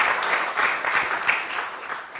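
An audience applauds the panel speakers at a Malaysian forum on boycotts, a dense, even wash of many hands clapping at moderate distance with no voices.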